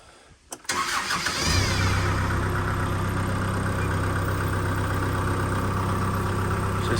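A tractor engine cranks with a short sharp burst, then catches and settles into a steady, loud idle that drones on evenly for several seconds, close by on a rural Missouri property.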